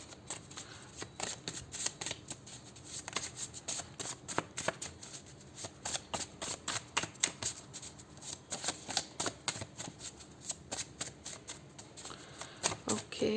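Tarot cards being shuffled for a card reading, with a steady run of quick, crisp riffling and slapping that goes on throughout. The sound is close and moderately quiet.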